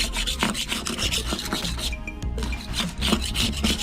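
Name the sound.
scraping barnacles off a boat hull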